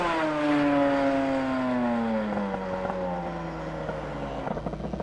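A twin-engine Lambretta 250cc scooter moves off, its engine note sliding down in pitch with a steady droning hum, close at first and gradually fading as it rides away.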